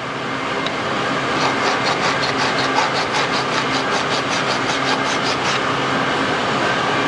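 Hand file cutting a notch into A36 low carbon steel in a close, steady run of rapid scraping strokes over a constant loud background noise.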